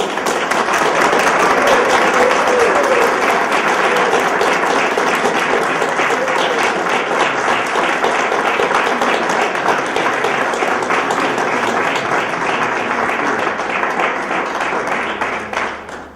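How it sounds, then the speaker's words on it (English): A college audience gives a warm, sustained round of applause after a new athletic director is announced. It stays dense and steady for about fifteen seconds, then fades out at the end. "That warm round of applause just lets me know that this is absolutely the right decision."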